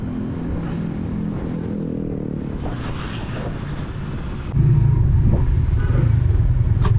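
A Honda CB150X Adventure Edition motorcycle on an afternoon test ride over a damaged road: a continuous low engine drone and road rumble that steps up noticeably louder partway through, with no talk.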